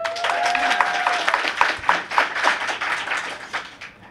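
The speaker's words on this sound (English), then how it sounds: "Show of hands or applause." Scattered, light clapping from a lecture audience at a talk on gender and skepticism, a few separate claps spread across the moment after a steady tone fades, fairly close and modest in volume.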